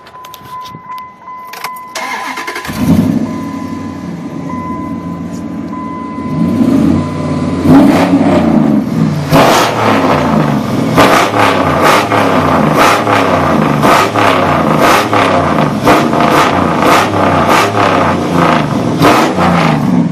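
A 4.7 liter truck engine turns over and fires up, settling into a rough, throbbing idle before a series of revs climb and fall; loud and close, with no talking.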